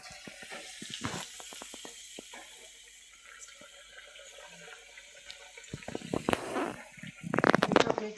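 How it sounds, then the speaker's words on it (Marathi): Sabudana vadas deep-frying in hot oil over low flame, a soft steady sizzle with scattered crackles and pops, growing busier and louder toward the end. "तोपर्यंत वडे तळायचे"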